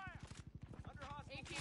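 Rapid automatic gunfire in a console shooter game, a fast even rhythm of shots through the whole burst, fairly loud, with a player's voice talking over it.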